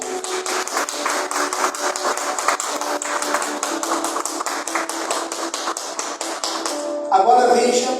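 Church congregation clapping in a fast, steady rhythm during a sermon, crisp even hand claps repeating for several seconds before a louder swell of noise near the end.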